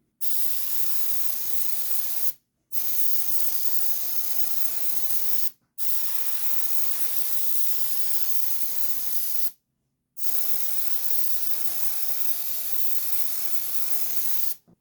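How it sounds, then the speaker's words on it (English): An airbrush sprays olive drab paint onto a scale model ornithopter, hissing in four long bursts separated by brief silent pauses, a steady close spray each time. "And now spraying on the olive drab."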